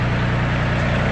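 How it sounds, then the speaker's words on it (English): Caterpillar 370B backhoe tractor creeping forward a few inches, its diesel engine a steady loud low rumble throughout with no pauses or voices. "So now we're going to drag the tractor ahead about"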